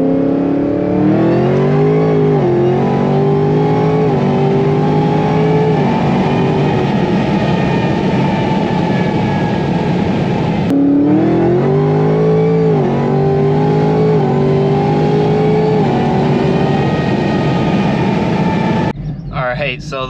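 Camaro SS race car making hard full-throttle pulls, engine revving and rising in pitch through gear changes, loud and close, two pulls in succession with a brief break between them and a shift in sound at the end.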